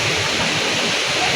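Nonok Falls in Real, Quezon roars close and loud, a dense, unbroken wash of rushing water filling the whole moment with no talk.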